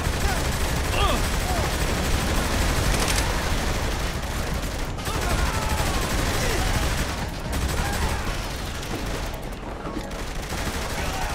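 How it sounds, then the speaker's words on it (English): Sustained, dense gunfire from Saints Row: The Third Remastered, rapid overlapping shots and bursts filling the scene loudly and continuously, with a voice talking intermittently over the din. "Okay, open fire!"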